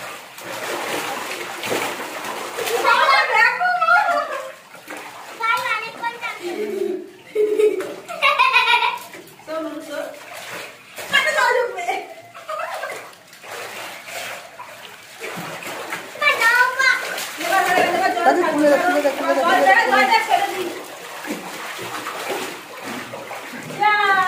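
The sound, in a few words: water running and splashing in home-made swimming pool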